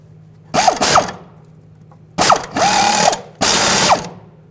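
A hand ratchet tightens a bolt on a car's rear upper control arm, heard as three loud, close bursts of rapid clicking separated by short pauses.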